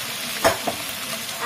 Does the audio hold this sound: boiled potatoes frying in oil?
yes